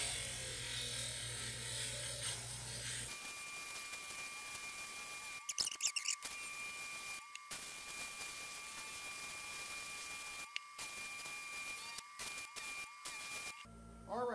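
Orange calcite crystal pressed against a spinning polishing wheel, giving a steady grinding whir and hiss with a faint constant tone, broken by several brief gaps and clatters where the stone is lifted and repositioned.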